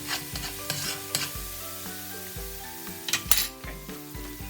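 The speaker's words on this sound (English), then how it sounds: "let me stir my pot for a minute" Beet greens cooking with kale and spinach in a pot sizzle softly while a utensil stirs and scrapes, clinking against the metal in irregular strokes, close and fairly quiet, with no talk.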